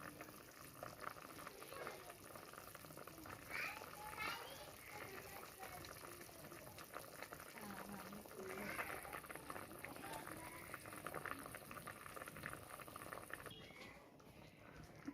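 Catfish curry bubbling steadily in a pot, a continuous soft simmering hiss and gurgle throughout.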